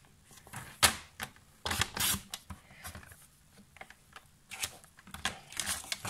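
A paper trimmer slices cardstock panels for a stamped card project, giving several sharp crisp cuts and snaps at irregular intervals, close and fairly quiet, with no talking.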